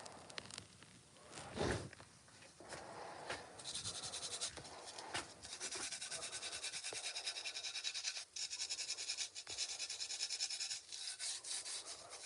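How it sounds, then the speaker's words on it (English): Ceramic pots being sanded lightly, a soft continuous rubbing rasp with short strokes, quiet and close, with no talking. "I'm not gonna try to go super hard in sanding these"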